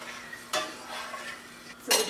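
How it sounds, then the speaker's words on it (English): A spoon scrapes and clinks against a pot of Greek rice pudding in a few brief strokes about a second apart, close by, over a faint steady hum with no voices. "Give this a nice little stir."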